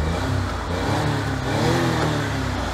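A big JDM imported truck engine rumbles loudly and steadily through a deep exhaust, rising slightly as it revs, close up with no talking.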